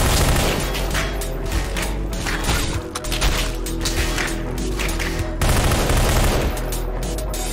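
Gunfire fills a firefight in the video game Entropy Zero: dense, rapid bursts of automatic shots and sharp cracks overlap continuously at high loudness, with a brief lull near the middle before the barrage resumes.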